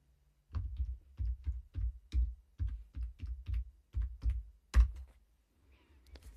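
A short command is typed on a computer keyboard: about a dozen close, soft key taps in an uneven rhythm, ending with a heavier press, in a quiet room.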